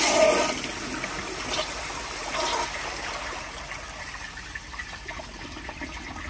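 A 1972 Kilgore Argus toilet flushes in a rushing gush of water that is loudest at the start, then settles into a steady trickle and refill hiss, with no talking over it.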